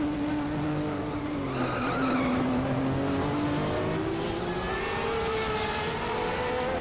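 Race car engines and tire squeal in the racing game GTR2 at Mid-Ohio as a Ferrari spins, with a steady loud engine drone and a skidding whine that dips and climbs across several seconds, with no voices.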